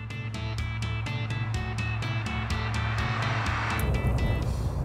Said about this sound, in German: Jetzt kann Christian endlich die Probefahrt mit dem Cossi machen.